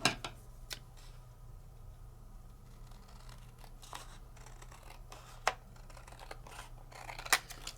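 Scissors trimming paper for a crafting project, quiet close snips and paper rustles scattered sparsely over a faint background hum, several sharp cuts standing out, with no talking.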